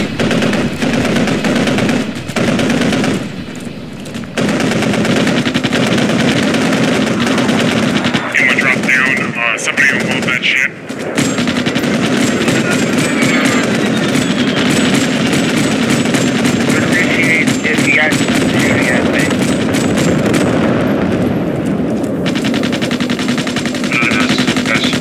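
Rapid automatic gunfire and bursts from the Squad military shooter game crackle almost continuously at high volume, with a helicopter-like drone beneath and someone talking over the action.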